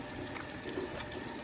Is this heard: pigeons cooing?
no